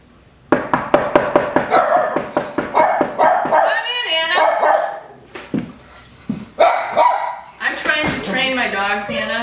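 Two Goldendoodles, Maverick and Midas, let out on a farm, barking in a quick burst of repeated sharp woofs, then yipping and whimpering excitedly as a visitor arrives, with people talking in between.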